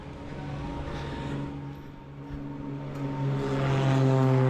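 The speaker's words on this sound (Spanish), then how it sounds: "Mira la avioneta. Acaba de despegar porque tenemos el aeródromo aquí al lado" A light propeller plane climbs away from a nearby airfield by a beach promenade in Playa del Carmen, its steady droning engine hum with propeller tones growing louder over the whole stretch.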